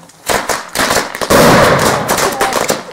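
Rapid, loud bursts from large firecrackers with 10 grams of charge per shot go off in an irregular string across three seconds, the crackling getting denser midway, close to the listener.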